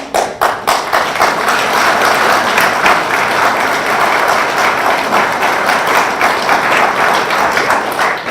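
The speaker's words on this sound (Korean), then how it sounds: "박수 잘 치셨습니다" An audience applauds at a New Year's greeting gathering: dense, close clapping that starts in a few sharp bursts, then settles into a steady roar for about eight seconds without speech.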